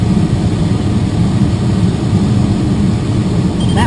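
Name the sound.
airplane flying near a glider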